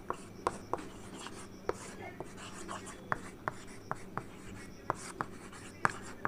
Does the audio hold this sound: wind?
no